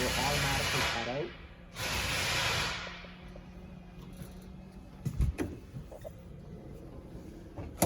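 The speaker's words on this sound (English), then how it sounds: "Push down, which is retract. It's going to start rolling in." An electric awning motor retracts on a 2013 Keystone Hornet 27RKS travel trailer: two loud rushing whirs give way to a steady low motor hum with scattered clicks and knocks, close by.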